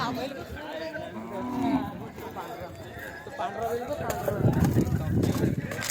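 Bulls lowing and shuffling amid a busy, noisy crowd at a bullock cart race, with people talking over the animals throughout.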